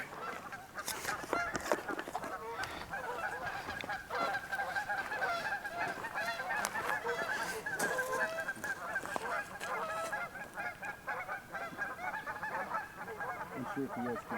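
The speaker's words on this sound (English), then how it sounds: "we're watching the geese out here having quite the conversation" A flock of geese calls continuously at Lake Eleanor in Yosemite, with repeated, overlapping honks rising and falling over a steady outdoor background, fairly close and prominent throughout.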